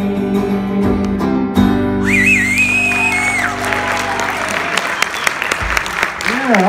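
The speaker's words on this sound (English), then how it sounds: "round of applause." A crowd breaks into loud applause after a live song performance, with the music's sustained tones fading away beneath it, then a shrill whistle and scattered whoops and shouts riding over the continuous clapping.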